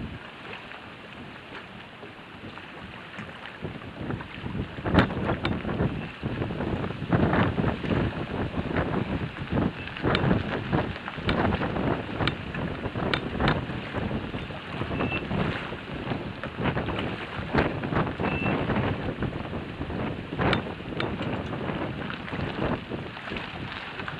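Strong side wind batters the microphone at a boat ramp while a boat is pulled out onto its trailer. The roar is loud, rough and continuous, with gusting bursts throughout and no talk.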